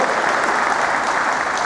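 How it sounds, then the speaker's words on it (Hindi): Loud, continuous applause from an audience welcoming a newly joined CMD at a company gathering, a dense, even wash of clapping with no break. "इनका भी जोरदार तालियां अब जाके स्वागत करो।"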